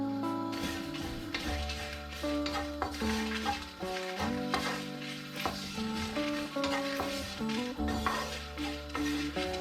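Curry leaves sizzle and crackle as they are dry-roasted and stirred in a pan for a dried prawn chammanthi, with intermittent scraping of the spoon against the pan, close and steady throughout.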